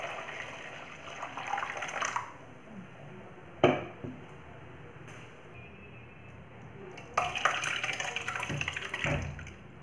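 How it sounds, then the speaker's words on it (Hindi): Whey water is strained from fresh paneer through thin cloth, with splashy pouring bursts at the start and end, a brief sharp splash midway, and a quieter trickle in between. "अब इसे अच्छे से छान लेंगे।"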